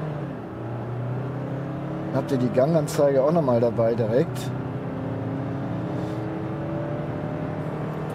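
A 2018 Jeep Compass 2.0 MultiJet diesel pulling away in second gear in manual mode, a steady engine drone under a voice, with a louder wavering engine tone rising briefly midway.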